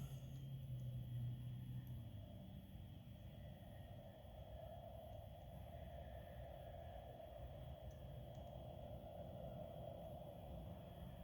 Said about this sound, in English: that noise is cars on the road